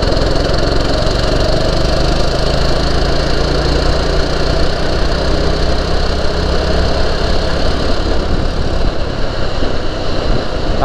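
A go-kart engine drones loud and steady on a kart track, holding a buzzing, rough tone for the whole stretch with no pauses.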